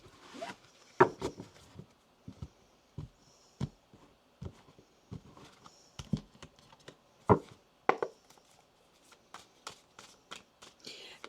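Tarot cards being shuffled by hand, a series of short, crisp riffling and slapping bursts at irregular intervals, close and quiet against a silent background.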